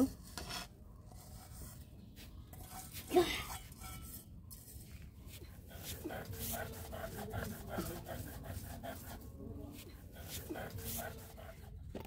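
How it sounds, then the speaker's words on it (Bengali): Mustard seeds ground by hand for pata hanjani, a steady rasping scrape with a brief louder knock near the start, heard close up and fairly quiet. "তো প্রথমে সরিষাটা পিষে নিব।"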